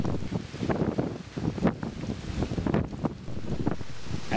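Hurricane Irene's storm wind buffets the microphone on South 9th Street in Lindenhurst, NY, in the early morning, with gusty, roaring rushes and thumps that rise and fall over a constant blustery background.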